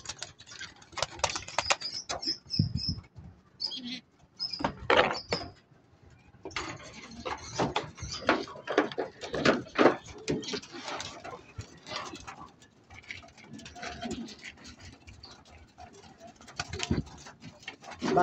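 Pigeons being fed in the morning: rapid irregular pecking taps and patter of beaks on a surface, close and busy, with scattered wing and shuffling noises and no clear voices.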